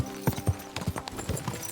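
Horse hooves clip-clop in an uneven trotting rhythm during a ride in the game Kingdom Come, several close, moderately loud hoof falls alone without talk.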